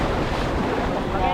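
Strong sea waves churn in a brief, windy burst, a dense low rumble of surf with wind buffeting the microphone, steady and close.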